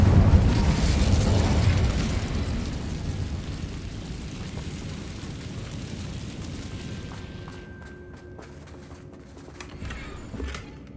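An Incendio fire spell in Hogwarts Legacy erupts in a loud, booming blast that rolls into a long fading roar and crackle. Faint clicks and small pops linger near the end.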